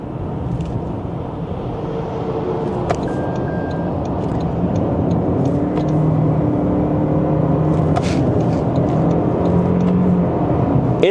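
A 2025 Toyota Camry LE base sedan on 16-inch wheels accelerates with a continuous cabin drone of engine and road hum that builds gradually and steadily, with no talk.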